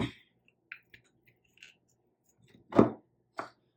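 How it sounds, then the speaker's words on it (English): A spoon scoops solidified coconut oil out of its container in a home kitchen: a few soft, sparse clicks and scrapes up close, then two louder scraping scoops near the end, with no talking. "I need to melt my coconut oil. It comes like this, so it's solidified. I'm just going to scoop it out."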